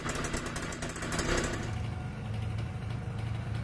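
A Yamaha RD80 LC 80cc two-stroke motorcycle engine buzzes steadily and close by, its revs rising in the first second and a half before settling into a rough, even drone.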